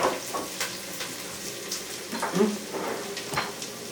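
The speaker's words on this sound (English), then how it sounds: "Get them in that pot, really hear that nice crisp singing to you." Onions sizzle in a pot, a crackly frying hiss with light stirring and an occasional clink of a utensil, close and moderately loud, no voices.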